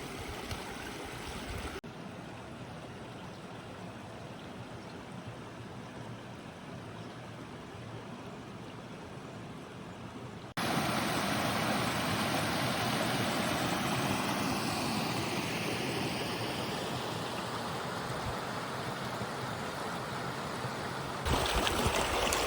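Lower Rock Creek in southeast Missouri running over rocks, a steady broadband rush of flowing water that grows louder partway through, with no voices.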